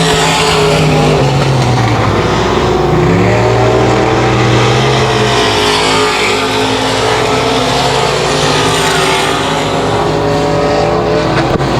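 Race cars roar around the 281 Speedway oval, a loud, sustained engine howl with pitch rising and falling as cars chase each other through the laps.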